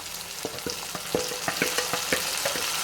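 A blended paste, ground like tomato, goes into a hot pan and sizzles while a spoon stirs and scrapes in quick close taps through a steady frying hiss.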